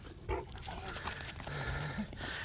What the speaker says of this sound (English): Baron the boxer dog decided to pay us a visit